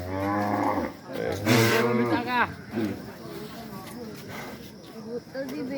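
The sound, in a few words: cattle mooing at sacrifice gathering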